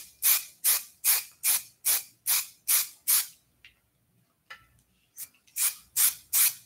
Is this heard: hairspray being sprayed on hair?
yes